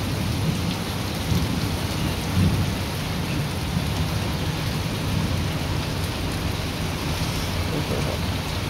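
Heavy rain pours steadily during a thunderstorm in Jeddah, a dense, constant roar of downpour with low thunder rumbling underneath throughout, close and loud with no pauses.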